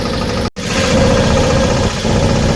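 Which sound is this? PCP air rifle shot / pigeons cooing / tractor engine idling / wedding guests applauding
tractor engine idling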